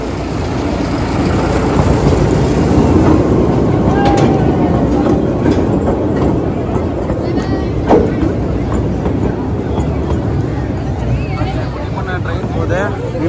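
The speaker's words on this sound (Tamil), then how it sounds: "ஃப்ரெண்ட்ஸ் ட்ரெயின் வந்துகிட்டு இருக்கு" A train rumbles past nearby, a loud continuous roar with clanking, while people chatter in a noisy crowd around it at a flower exhibition in Pondicherry.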